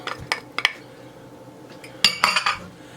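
Metal utensil scraping and clinking against a soup pot while garlic is stirred in, a few sharp clanks early and a cluster of louder knocks near the end, close and alone.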